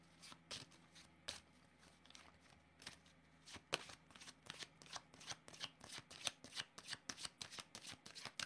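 Tarot cards are shuffled close by in a quiet room, with quick riffling bursts at first and then a steady run of soft, rhythmic flicks.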